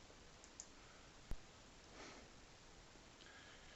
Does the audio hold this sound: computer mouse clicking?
yes